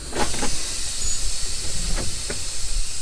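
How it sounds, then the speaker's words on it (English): Air brakes on a Class A truck release with a broad, steady hiss during a pre-trip inspection, a few short bursts standing out over the continuous rush of air. "release the brakes"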